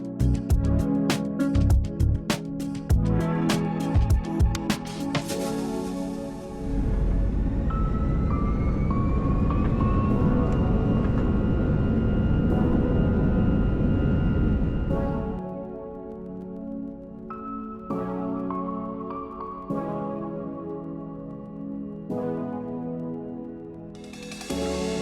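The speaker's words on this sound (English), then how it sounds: "we were soon pushing back and heading to the runway" Delta airliner pushing back and taxiing toward the runway, a steady loud cabin rumble of engines and air that swells mid-way, then eases to a quieter hum with faint tones.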